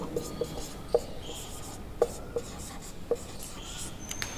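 Chalk on a board taps and scratches in short, separate strokes, with an example being written during a Hindi grammar lesson. The sounds are faint and spaced irregularly, and there is no speech.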